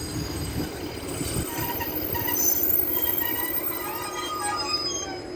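A Northern train made up of Class 156 diesel units passes Castleton station, its wheels rumbling and squealing steadily, swelling a little as it goes by, with no talk.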